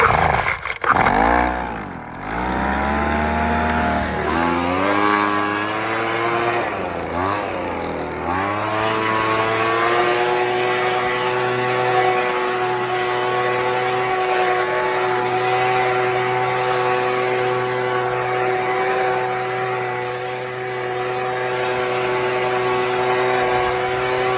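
Craftsman red 25cc gas leaf blower, just repaired with a cleaned carburetor and new fuel lines, revs up after a brief start then runs steadily at a loud, buzzing two-stroke drone close by.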